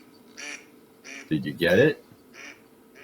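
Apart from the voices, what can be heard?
mallard duck quacking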